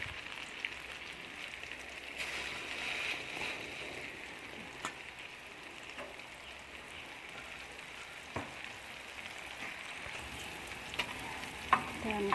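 Tofu perkedel patties fry in hot oil in a wok, giving a steady close sizzle with scattered small pops and an occasional utensil tap, and no voices.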